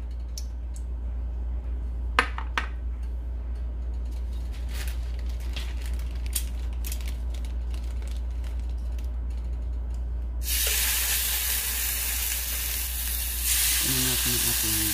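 Cooking oil hits a hot pan before chicken goes in. A low steady hum and a few clicks come first, then a loud bright sizzle bursts up near the end and swells further.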